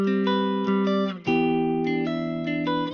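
MIDI pop guitar chord progression with sliding transitions between chords, bright sustained synthetic chords changing a few times in quick succession, clean and close with no talk.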